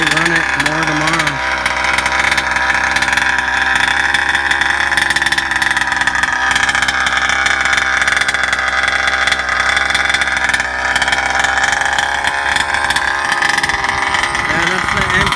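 A GP290 29cc gas engine with a stuffed crank runs steadily on an RC truck, a loud continuous buzzing drone that holds nearly level throughout, with a brief rise in pitch near the start.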